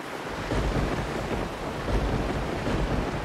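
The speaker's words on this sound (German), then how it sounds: "Wo kam denn dieser Sturm jetzt schon wieder her?" A thunderstorm at sea in the pirate sailing game Sea Dogs: City of Abandoned Ships, near Curaçao: dense, steady roar of wind and rain with low rumbling swells, loud and continuous throughout with no voices.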